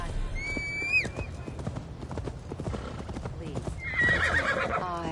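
A horse in Assassin's Creed Valhalla clops along with steady hoofbeats, letting out a shrill whinny at the start and again near the end, close and clear over light ambience.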